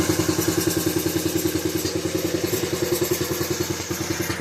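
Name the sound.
Coleman minibike engine shutting off when given gas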